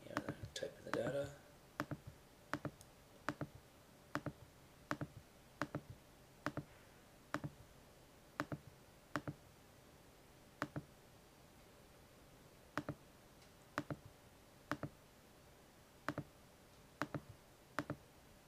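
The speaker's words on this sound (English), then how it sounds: "I'm going to type in this data." Keys pressed one at a time on a calculator while entering data, steady light clicks at a regular pace of about one per second, faint and close, with a soft voice murmuring briefly near the start.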